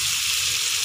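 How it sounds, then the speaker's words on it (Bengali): Chopped onion sizzles steadily in hot oil in a pan while being stirred for a fish egg kofta curry, giving a close, continuous crackling hiss with no pauses. "আমি আরও কিছুক্ষণ পেঁয়াজটা এইভাবে নাড়ব"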